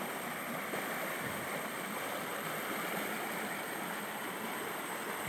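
A river stream flows steadily and continuously, a broad, even wash of running water close by with no voices over it.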